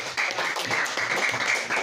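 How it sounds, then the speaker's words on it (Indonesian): Clapping from a small group of students in a classroom lesson, a brief burst of steady claps lasting under two seconds at moderate loudness, with no talk over it. "tepuk tangan untuk kelompok"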